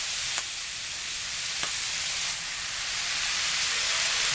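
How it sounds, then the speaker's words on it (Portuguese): Beef frying in butter in a pan over high heat gives a loud, continuous close-up sizzle, with a few faint pops and taps. "Aí nós vamos deixar ela fritar um pouquinho"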